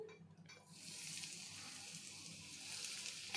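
Hot oil poured over spices as tempering for fenugreek mango pickle, a soft sizzling hiss that starts abruptly after a brief quiet moment and holds steadily, faint and fairly close.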